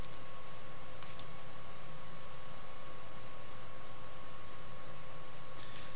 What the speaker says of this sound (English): if we click on this one